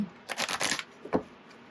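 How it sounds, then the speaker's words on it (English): A deck of tarot cards is shuffled in a quick riffle of rapid flicks, then a single sharp tap as the cards settle, close and fairly quiet. "That was a bad shuffle."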